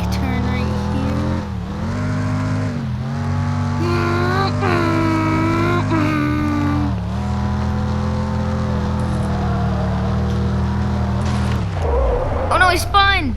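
Cars in the Demolition Derby 3 video game drive and turn, with a loud sustained engine drone whose pitch rises and dips through gear changes, and a brief skid and clatter near the end.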